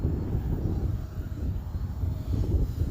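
A low, steady engine drone of a small full-scale airplane passing overhead, a broad rumble with no voices.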